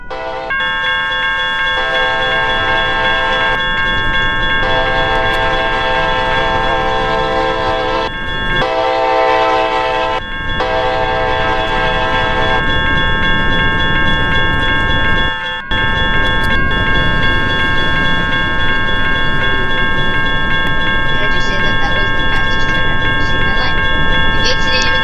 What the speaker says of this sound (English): let's watch the train